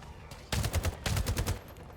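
Rapid bursts of automatic fire from an assault turret in the video game The First Descendant, two loud clattering volleys close by with a short gap between them and no talking.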